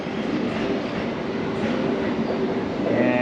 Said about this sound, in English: Okay, so this train just arrived.